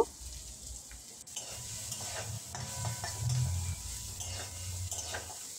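Egg pasta being stirred with scrambled egg in a sizzling frying pan, a continuous close hiss of frying with soft scraping stir strokes and faint utensil clinks, no talk.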